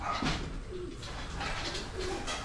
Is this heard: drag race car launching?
no